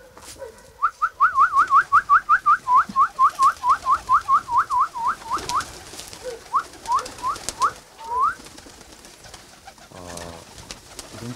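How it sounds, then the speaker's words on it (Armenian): Domestic pigeons kept in a village coo in a long run of rapid, repeated calls. After a short pause a few more coos follow, all close and clear against a quiet background. "Ես նաև աղավնիներ եմ պահում"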